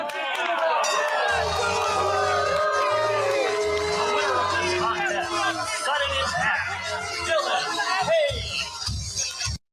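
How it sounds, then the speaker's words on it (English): A crowd at a wrestling match roars and cheers in a played-back recording, with loud, dense voices, shouting and chatter layered over a rhythmic low thumping of music, continuous until an abrupt cutoff. "You're going to hear the crowd. You got to hear the crowd."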